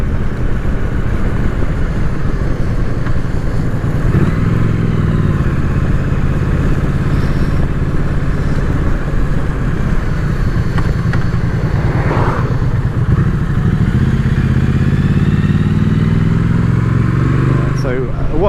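A Triumph Street Twin motorcycle rides along on a trip to the beach, its engine a steady low drone with wind rush throughout while a rider talks over it.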